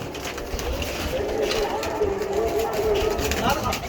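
A Sialkoti pigeon coos softly in low, rolling phrases, close by, while a person talks over it amid light background noise.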